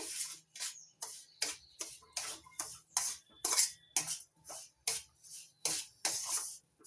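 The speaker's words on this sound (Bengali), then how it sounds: "ঘিটা গরম হয়ে গেছে এবার হালকা আছে সুজিটা ভেজে নেব" Semolina frying in hot ghee, stirred with a utensil in a pan, giving regular rhythmic scraping strokes, close and fairly crisp, with no talk.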